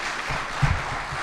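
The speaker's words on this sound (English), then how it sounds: "Another big round of applause." A short burst of applause from a workshop audience, steady clapping that is moderately loud and slightly distant.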